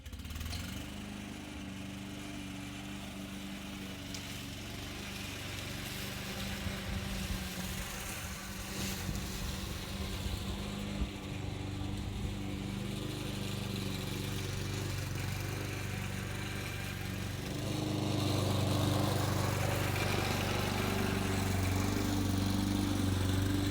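Honda HRG IZY petrol lawn mower running steadily while cutting grass, a continuous droning engine with a low hum that grows a little louder and nearer toward the end, with no voices.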